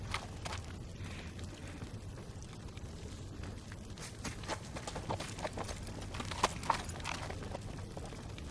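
Horse hooves clip-clop at a steady walking rhythm, fairly faint and distant, with no talking.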